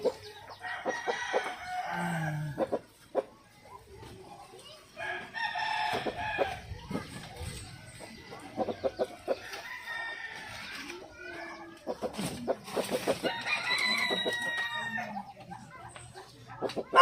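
Inside a chicken coop, hens cluck and squawk in repeated close bursts while a rooster crows, the calls overlapping loudly with brief quieter gaps between them.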